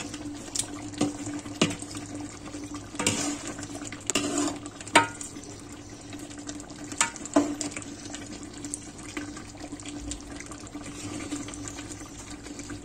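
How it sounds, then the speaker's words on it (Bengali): Chicken rezala, a Bengali wedding-style curry, stirred gently in a cooking pot, giving soft wet scraping and sloshing with a few brief clinks against a steady background hum. "উপরের গুলো আমি একটু নেড়ে দিচ্ছি"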